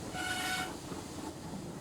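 Railway engines arriving along the line, a steady broad rumble of rolling stock with a brief sustained whistle-like tone early on, continuous and fairly close with no talk.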